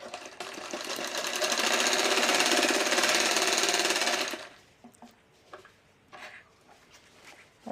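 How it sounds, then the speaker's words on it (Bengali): An electric sewing machine stitching cloth for a dress runs in a fast, steady loud whir for about four seconds, then stops, leaving faint handling clicks and rustles of fabric. "তো এবার সেলাই করে নেব।"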